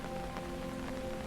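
Steady rain patters continuously over a rooftop-like surface in a quiet village at night, a soft even hiss with scattered drop taps throughout and no voices.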